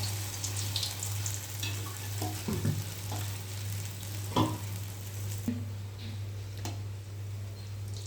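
Steady low oil sizzle from urad dal vada frying runs throughout, with a few soft clinks and stirring taps scattered over the bubbling hiss.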